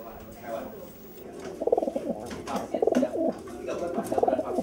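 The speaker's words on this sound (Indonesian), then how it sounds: "Burung merpati jagoan mereka lalu terbang cepat menuju pemiliknya" Racing pigeons coo repeatedly in soft, throaty bursts, nearby, over a murmur of background noise.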